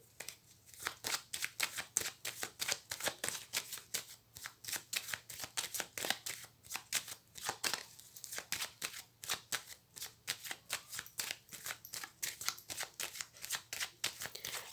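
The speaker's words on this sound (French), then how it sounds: "je vais faire une coupe avec le tarot de Marseille" Tarot de Marseille cards being shuffled and cut, a long run of quick crisp riffling snaps in rapid rhythmic bursts, close and clear over near silence.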